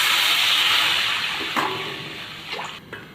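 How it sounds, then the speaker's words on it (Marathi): Water is poured from a small vessel into a cooking pot of chickpea greens with crushed garlic, chili and turmeric: a steady close splashing rush that tapers off, with a few clinks near the end. "1 तांब्याभर मी पाणी घातलेलं आहे।"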